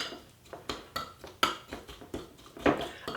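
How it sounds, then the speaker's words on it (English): A spoon stirs mustard and brown sugar together in a bowl, producing a rhythmic series of close clinks and scrapes against the bowl roughly twice per second, with no talking. "And I'm going to give that a little stir."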